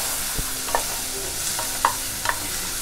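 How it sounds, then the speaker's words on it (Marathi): Onion sautés in a pan over a low gas flame with a steady close sizzle and a few soft scraping stirs of a spatula, no talking, for bhindi masala. "त्या कमी गॅसवर मी चांगला कांदा परतून घेते."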